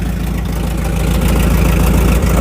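A Volvo 740 saved from a scrapyard idles with its exhaust completely detached, a loud, steady low-pitched engine drone with an even throbbing pulse close to the microphone.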